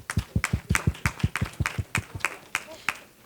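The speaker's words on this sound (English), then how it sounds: "Let's give a round of applause for Ms." An audience claps in a round of applause for a speaker at a talk on women in African American history. About a dozen crisp, separate claps sound close and fairly quick, with no talking.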